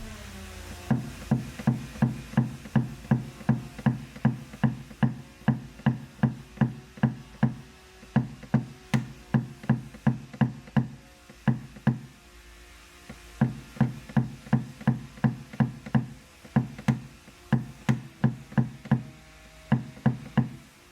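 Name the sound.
knocking down hail dents on car body panel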